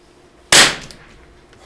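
A cheap .22LR rifle fires Eley match ammunition: one loud, sharp, close crack with a brief decaying tail, and the start of another shot at the very end.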